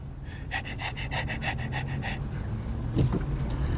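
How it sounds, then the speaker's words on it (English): A dog pants close by in quick rhythmic breaths that are loud for the first two seconds, then settle into quieter, irregular breathing. "You're like panting?"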